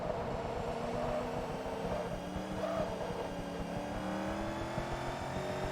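A Corvette in Forza Motorsport 2 at full throttle near top speed, its engine a steady loud drone with the pitch rising slowly across several seconds, and no talk.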